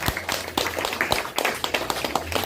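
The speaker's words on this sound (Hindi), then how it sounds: "तो एक बार सभी क्राउन एम्बेसडर के लिए जोरदार तालियां।" Audience applause for Crown ambassadors at a seminar: loud, dense, continuous clapping from a crowd with a quick, uneven rhythm throughout.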